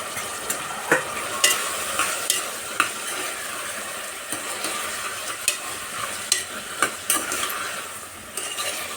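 Beans, onion, tomato, green chilli, turmeric and salt fry in oil in a pan for a bean sambar, producing a steady sizzle broken by sharp scraping stirs and occasional spoon knocks against the metal.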